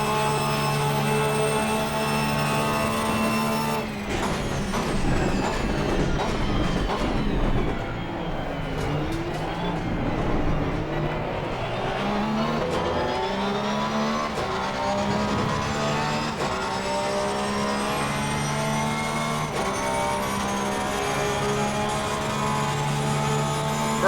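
2018 Porsche GT3R race car lapping Monza in Assetto Corsa Competizione, a loud continuous engine whine climbing and dropping through gear shifts and braking, alone without talk.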